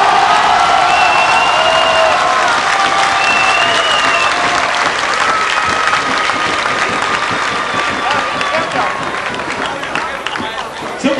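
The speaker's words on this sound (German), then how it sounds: "einen super Applaus nochmal für Sie" A large audience at a folk music show bursts into loud, sustained applause with dense clapping that holds steady, then slowly thins out toward the end.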